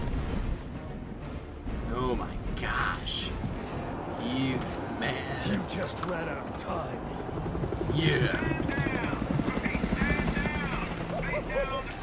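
A helicopter in the Batman Arkham Origins video game drones and thumps throughout, with bursts of gunfire and blasts, while voices talk over it.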